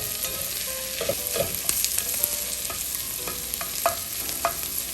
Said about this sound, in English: I'm gonna add in my minced garlic right now. Cook it for another minute.